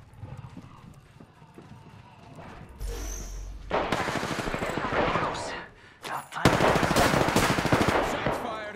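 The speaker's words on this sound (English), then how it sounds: "Shots fired and they're hitting me." Rapid bursts of automatic gunfire and loud impacts in an Apex Legends-style video game match, dense and aggressive, coming in long sustained volleys after a quieter opening with faint game sounds.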